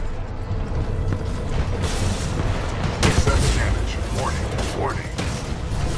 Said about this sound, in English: I know how to use a flamethrower